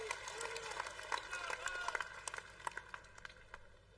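Crowd clapping in welcome at an Indian political rally before a nomination filing, a dense ongoing round of applause with many hands, somewhat distant and reverberant, under a loudspeaker voice, fading toward the end.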